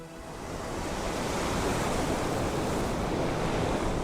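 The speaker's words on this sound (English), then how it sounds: "The ocean lies just ahead." Steady ocean surf rolls in a dense, unbroken wash, building in the first half-second and then holding a loud, even roar with some wind buffeting and no talk.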